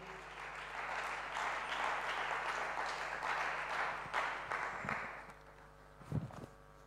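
A church congregation applauds together, a steady broadband patter of many hands that holds for about five seconds, then thins out, leaving a few scattered claps and stray knocks in a reverberant hall.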